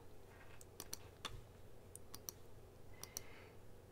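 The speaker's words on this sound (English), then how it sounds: "And I'm just right-clicking around." A computer mouse is right-clicked repeatedly during drawing software work, giving faint, sharp, irregular clicks over a quiet background hum.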